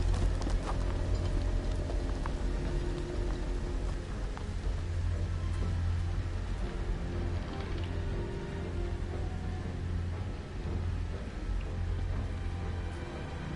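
Horses' hooves clip-clopping in the Game of Thrones video game, a steady walking beat among creaking tack and mechanical noise, with a low ambient rumble underneath throughout.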